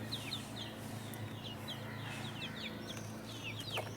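Chickens and chicks pecking at termites make faint, quick peeps and soft clucks that repeat throughout over a low steady hum.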